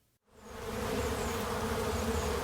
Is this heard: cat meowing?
no